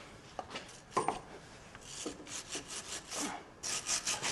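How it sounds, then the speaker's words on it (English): Scrubbing old oil, grease and soil off the bottom of a Land Rover Defender steering box, a run of rough, rasping strokes in short bursts, close up and fairly quiet, with no talk. "We're going to clean bottom of the steering box up now. Your old oil, grease, soil, whatever else is on there,"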